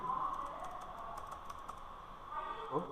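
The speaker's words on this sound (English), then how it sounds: "For that purpose, I am typing M." A computer keyboard is typed on in a quiet room while writing Python code, giving a run of soft, irregular key clicks that stays steady and fairly close.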